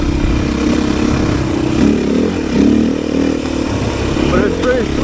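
A Beta 500 RS dirt bike runs on a Michigan trail, its engine a steady close drone with slight rises in revs, clatter and wind noise throughout.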